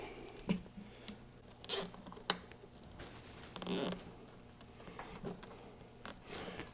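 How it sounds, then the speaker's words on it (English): A zip tie ratchets tight around a bracket on a WR250R/X motorcycle, giving short, quiet zipping clicks in scattered bursts with pauses between them. "we're going to secure around the main bracket as well with a zip tie"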